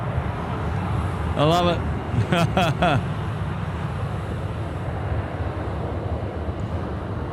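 A Virgin Australia Velocity 888 airliner bound for Melbourne taxis out at Sydney Airport, giving a steady broad jet rumble throughout while a person briefly speaks over it.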